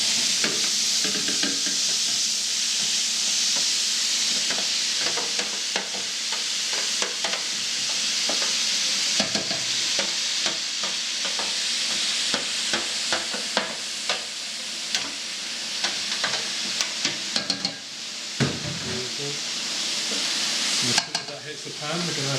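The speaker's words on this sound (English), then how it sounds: "Just going to add a little bit of oil to the pan. And then all the veg in," Mixed vegetables sizzle steadily in a little oil in a pan for bolognese sauce, a continuous broad hiss broken by frequent scraping stir strokes, close and fairly loud with no talk.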